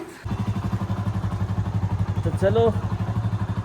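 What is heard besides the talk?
motorcycle engine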